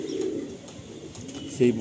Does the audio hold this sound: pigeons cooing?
yes